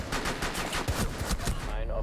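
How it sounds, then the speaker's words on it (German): Rapid submachine gun fire in a German-language video game, a dense stream of loud close shots running nearly two seconds with faint voices underneath. "Er hat eine Maschinenpistole da unten."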